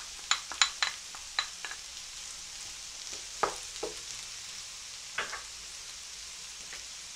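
Diced onion and potatoes fry in a pan under a soft continuous sizzle, with sharp scraping clicks from stirring scattered irregularly across the seconds, and no one speaking.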